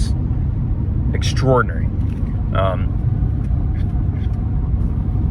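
Ford F-150 diesel pickup towing an 8,500 lb gooseneck trailer across flat Nebraska roads, a steady engine and road rumble filling the cab while someone talks over it.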